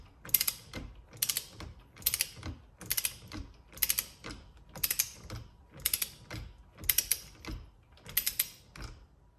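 A ratchet wrench clicks in about ten regular bursts while tightening a steering wheel bolt clockwise on a Tesla Model Y or Model 3. The clicks are close and crisp, with no talking.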